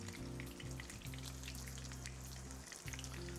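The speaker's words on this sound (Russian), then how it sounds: "Жарим до тех пор, пока баклажаны станут темно-золотисто-коричневого цвета" Eggplant slices fry in hot oil in a pan, a dense, crackling sizzle with steady popping spatters, close and continuous under a low hum.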